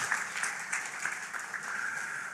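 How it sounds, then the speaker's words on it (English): An audience at a school awards ceremony claps steadily for a couple of seconds, a dense, even patter of many hands with no voices. "You can clap, yes, thank you."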